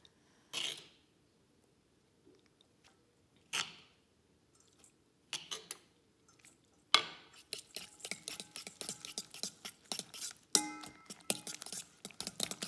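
Cheese bread dough being kneaded by hand in a home kitchen, a sticky, wet mix of grated cheese: scattered soft squelches and taps at first, then denser bursts of sticky slapping and clicking, fairly quiet and close.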